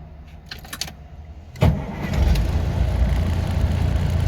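A car engine with a fuelling fault turns over and catches after a few light clicks, then settles into a steady, close idle, dipping to about 450 rpm and rising back to 600.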